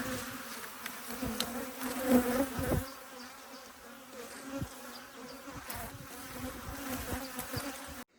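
Honeybees packed into bee packages buzz in a close, continuous drone with shifting intensity and a few louder swells, alone without speech.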